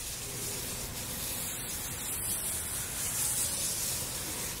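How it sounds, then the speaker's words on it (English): A garden hose sprays water onto an aluminum wheel rim being stripped of clear coat, giving a steady, continuous broadband hiss that holds fairly even throughout without pause. "just get your hose"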